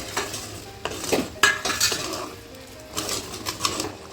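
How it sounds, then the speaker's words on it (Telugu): Tamarind pickle being stirred into an Andhra fish curry in a pan, with repeated metal spoon scrapes and clinks against the pot over a faint sizzle, in uneven bursts. "చింతకాయ తొక్కేసి బాగా కలపాలి"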